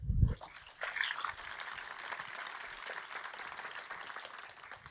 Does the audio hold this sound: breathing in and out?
no